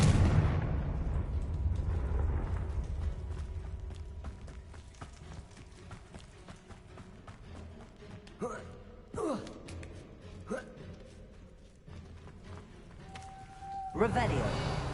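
A Confringo blasting spell in the video game Hogwarts Legacy erupts at the start with a loud burst, followed by several sharp blasts and crackling impacts spread over the remaining seconds amid continuous game noise.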